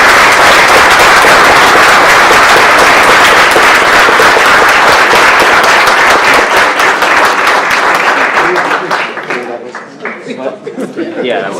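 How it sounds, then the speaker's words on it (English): An audience applauds loudly at an opinion-writing panel, dense sustained clapping that thins out and fades toward the end as voices start. "Please give a warm applause."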